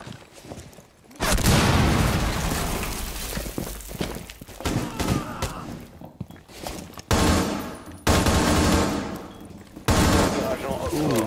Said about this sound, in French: Grenade à ricochet. Je prépare la grenade.